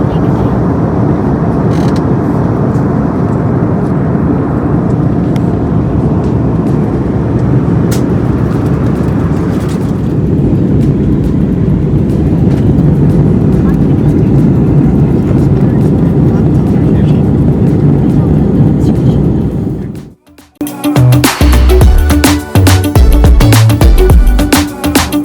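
A steady, loud, low roar of airliner cabin and engine noise fills a flight approaching landing for a family trip to Orlando, then it cuts off abruptly and is replaced by louder, choppier noise.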